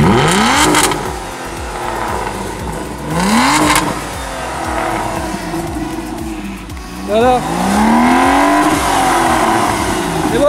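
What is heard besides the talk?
Aston Martin DB9 V12 engine revving, heard from outside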